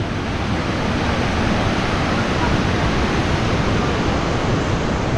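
Khone Phapheng waterfall roars as a steady, loud, broadband rush of water, unbroken and even throughout with no other sounds standing out.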